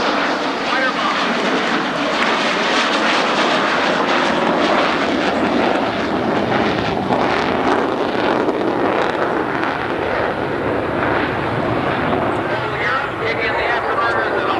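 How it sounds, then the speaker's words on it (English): An FB-111 fighter-bomber's jet engines roar steadily at an airshow with afterburners engaged, a loud continuous wash buffeted by wind noise on the microphone throughout. "Kick in the afterburners and off we go."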